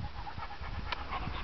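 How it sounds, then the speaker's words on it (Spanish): A thirsty dog pants close by in quick, steady breaths with no talking over it. "Tiene mucha sed este perro."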